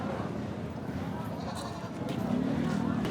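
Goats bleat amid background chatter and outdoor noise at a livestock market in Padre Garcia, Batangas, a few short calls close by.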